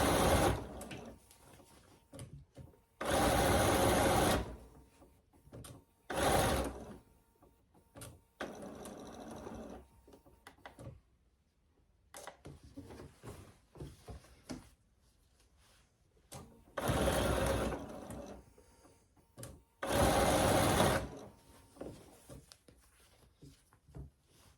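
A sewing machine stitches ruffled pillow fabric in several loud bursts of rapid whirring, broken by quieter gaps with fabric handling and faint clicks.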